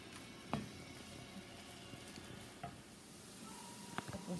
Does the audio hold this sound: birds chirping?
no